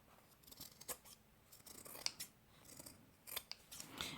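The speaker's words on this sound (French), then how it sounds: "On peut couper aussi un petit peu les excédents sur les côtés" Scissors trimming excess fabric while sewing a pouch, a series of crisp close snips in an irregular rhythm, some faint and some sharper, in a quiet room with no talk.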